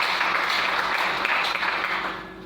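A church congregation claps together after a preacher's call to praise, a broad, even applause that holds steady and then tapers off toward the end, with no speaking over it.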